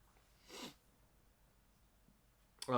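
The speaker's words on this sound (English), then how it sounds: "Almost missed that sneeze." A single short, sharp human sneeze bursts out near the start, followed by quiet, with another abrupt noise cutting in right at the end.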